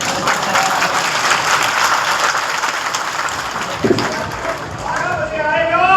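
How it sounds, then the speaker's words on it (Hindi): An audience at a talk breaks into sustained applause, dense loud clapping that fades toward the end as a voice starts speaking over it. "ताली बजाने का मन कर रहा है तो बजा लो।"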